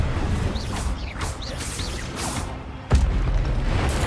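A fire spell is cast in a wizard video game: a few soft magical whooshes build up over a steady game backdrop, then a sharp, loud burst erupts near the end and leaves a fuller rumble behind it.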